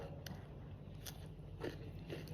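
A few sharp, crisp crunches from biting into a crunchy date fruit, close and fairly quiet over low background hum, with no talking.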